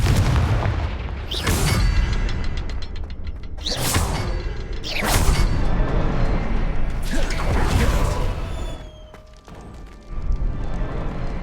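Confringo blasting spell explosions in the Hogwarts Legacy video game: several loud booming blasts with whooshing bursts and crackling debris, roughly every two to three seconds over a dense, continuous game soundscape.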